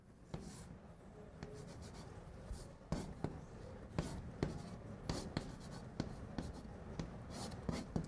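Pen or marker writing out a mathematical expression during a calculus lesson on derivatives, a close, quiet scratching with irregular taps and strokes that keeps going throughout.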